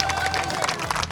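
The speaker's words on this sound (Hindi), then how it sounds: "ये जो तालियां आप सुन रहे हैं" Outdoor crowd of residents in Ward 24 of Indore, India, clapping during a street election report, a brief, dense patter of hands at moderate distance over a low background rumble.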